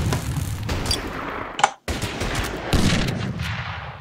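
Bursts of gunfire from units in the Order of Battle war game set in the Battle of Shanghai, sharp cracks and rattling volleys filling the short stretch with one abrupt silent gap.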